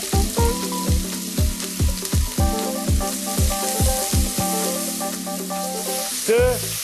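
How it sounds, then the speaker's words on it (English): Finely chopped onions fry with cumin seeds in a pan. A close, loud sizzle runs under a regular series of sharp metallic taps, roughly two per second, ending in a brief scraping clatter. "Stir and cook until the onions turn brown."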